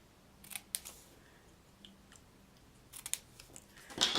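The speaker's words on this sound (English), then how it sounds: "I'm going to just use scissors to snip the left end." Scissors snip the end of a paper banner for a card-making project, a few sharp, close cuts in quick clusters with short pauses between, the last snip loudest, and no talking.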